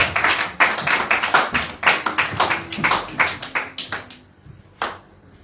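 Church congregation applauding, a crowd clapping in uneven rhythmic bursts that swell and fade, fairly close and loud, tapering off toward the end with a last few scattered claps.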